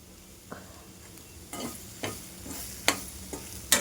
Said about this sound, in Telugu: కొంచెము కారం, కొంచెం ధనియా పొడి వేసేసి బాగా రోస్ట్ చేయాలండి